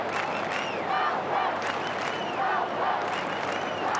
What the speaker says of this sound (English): Massive crowd at the MCG